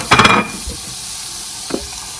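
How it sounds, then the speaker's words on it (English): Onions frying gently in a pan give a burst of crackling sizzle and stirring scrape at the start, then settle to a soft steady hiss with one more brief stir. "before I make my omelette, I'm going to gently fry my onions"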